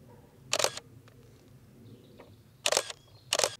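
A single-lens reflex camera fires three times, each shutter press a sharp mechanical click and whir that stands out against a quiet room, the last two coming close together.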